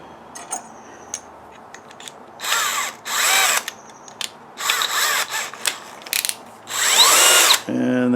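A drill with an F-size bit whirs in short repeated bursts, with clicks and small mechanical noises between runs, the last burst longest before it winds down.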